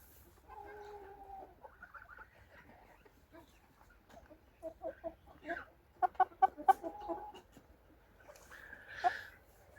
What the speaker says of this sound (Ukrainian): Ось так виглядають наші зимові курчата